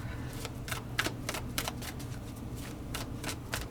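Tarot cards being shuffled in quick riffling bursts, a steady run of crisp flutters close by, with no one talking.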